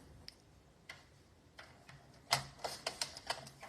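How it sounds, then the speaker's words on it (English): Scissors or a paper trimmer cutting a half-inch strip of cardstock for an autumn leaves greeting card, heard as a few soft, close clicks and snips that grow into a quick run of crisp cuts near the end. "so I'm going to cut a 1/2 inch strip and then cut it at 4."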